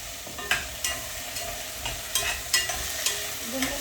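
Mango curry ingredients sautéing in a pan for a Kerala-style curry, a steady sizzle broken by regular scraping stirs about every half second, close and fairly loud.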